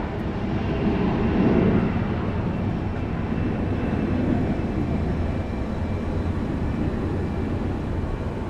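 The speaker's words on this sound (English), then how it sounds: "Next in line in the background is a SkyWest heading to Denver." A SkyWest airplane roars in the background near Phoenix Sky Harbor International Airport, a broad, steady engine rumble that swells slightly early on and then holds, with no talk over it.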